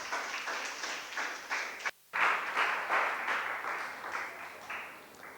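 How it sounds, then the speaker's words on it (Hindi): An audience applauds at a history lecture as a speaker is invited on stage, a dense, steady wash of clapping with a brief break, fairly loud throughout. "तालियों के लिए बहुत बहुत शुक्रिया"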